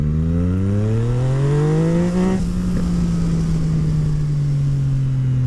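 A Yamaha MT-09 motorcycle with a full Akrapovic exhaust accelerates hard, its loud engine note climbing steeply in pitch for about two seconds, then shifting and holding a high, steady roar close by.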